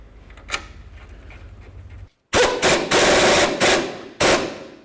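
An impact tool snugging up a pinch bolt on a 2004-2012 Volvo S40 during a front passenger-side CV axle job, loud, close rattling bursts in several short runs after a quieter stretch with a brief click.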